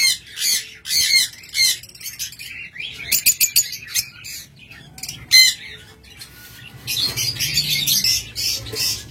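Cockatiels and lovebirds in a bird-selling setting squawk and chirp in rapid, overlapping bursts, shrill and close, with a denser chorus toward the end.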